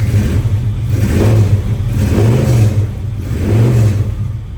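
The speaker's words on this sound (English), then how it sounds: "Good sounding truck." A 1983 Chevrolet C10 pickup truck engine revs in three slow, rising swells over a steady low rumble, loud and close, with no voices.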